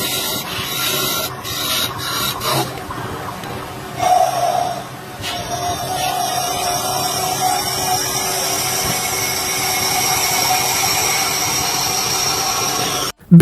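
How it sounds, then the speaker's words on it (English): A woodworking machine turns a rotating block of wood into a sphere using two metal clips, giving a steady grinding, rasping whir that runs continuously at close range with brief shifts in tone early on. "Two metal clips turn a rotating block of wood into a perfect sphere."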